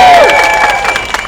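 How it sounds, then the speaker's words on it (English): A short, loud burst of crowd clapping and cheering at a political rally, with a rising and falling whoop over the applause before it thins out. "Give yourself a round of applause!"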